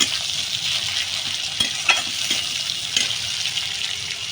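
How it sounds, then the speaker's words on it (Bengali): Chopped onions fry in a pan for a spicy small-fish curry and are stirred now and then. A steady, fairly loud sizzling hiss is broken by a few soft scrapes and clinks of the spatula, close up, with no one talking. "একটু পেঁয়াজটা নেড়ে নেব আমি।"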